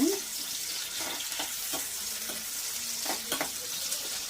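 Finely chopped onion fries in hot oil, a steady close sizzle with occasional stirring scrapes and small pops, with no talking.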